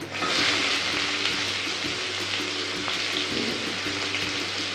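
Finely chopped large onions frying in oil in a pan for vada curry, a steady soft hiss and crackle with faint periodic tones underneath, close and fairly quiet, with no talking.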